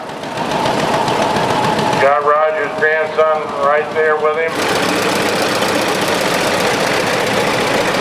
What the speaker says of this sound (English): John Deere 1951 Model B, also owned by Roger Bruce.